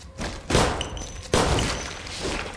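Two loud gunshot bursts in the horror game Endless Nightmare: Weird Prison, each a heavy boom followed by a decaying rumble, about a second apart.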